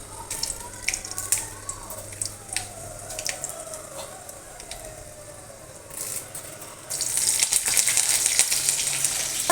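Dried red chillies and curry leaves hit hot tempering oil for a Kerala mango pulissery, giving a close crackling sizzle with sharp pops that swells louder and brighter toward the end. No one speaks.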